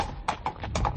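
Horse hooves trot along in a steady clip-clop, several distinct hoofbeats sounding close and fairly loud, with no voices over them.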